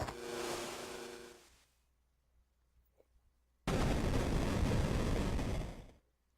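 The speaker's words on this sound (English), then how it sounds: "Alright, an earthquake." A loud earthquake rumble in the video game Final Fantasy III: a broad roar that fades into near silence, then returns as a heavier, sustained rumble before cutting off.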